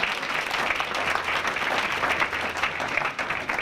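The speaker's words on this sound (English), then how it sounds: "Let's all give him a warm round of applause." A seated audience at an evening talk on the Syrian refugee crisis breaks into a warm, sustained round of applause, dense steady clapping at full volume throughout with no one speaking.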